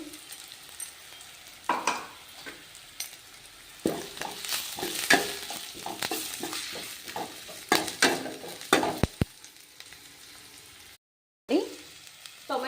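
Ground green chili paste, with asafoetida, fries in a pan for a fenugreek dal. It gives a steady sizzle, broken by repeated scraping stirs and clinks of the spoon.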